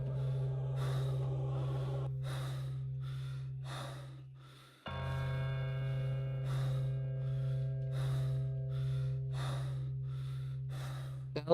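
Heavy breathing effect in Pathologic 2, loud close inhales and exhales repeating at a steady pace over a constant low drone, briefly dipping and then resuming with a faint ringing tone, no talking.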